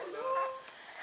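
A puppy whimpers softly up close in a garden, a thin high whine rising and holding briefly before trailing into faint yips, with quiet ambient noise underneath.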